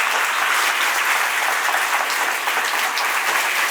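Loud, dense applause from an audience at a Tamil ceremony honouring Gnanasekaran, a farmer's son who passed the VAO exam, steady and continuous throughout.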